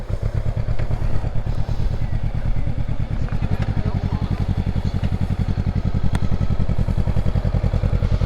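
A Honda motorcycle's engine runs close and loud at a campsite as the bike is shifted into place, a steady pulsing rumble that picks up to a slightly faster, firmer beat about halfway through, with faint clatter over it.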